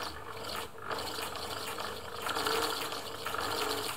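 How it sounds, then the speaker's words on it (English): A Singer 700 series sewing machine winding thread onto its bobbin with the in-place winder, a continuous fast mechanical whirring with a faint ratcheting texture, steady and close, rising slightly partway, no talking. "So this is what they call an in-place bobbin winder"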